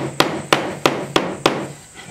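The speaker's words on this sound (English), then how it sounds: "So now I'm gonna pound it in and just hope I don't split my wood." A hammer drives a nail into the wood of a handmade box plane with a forged iron, five sharp evenly spaced blows ringing out close and loud.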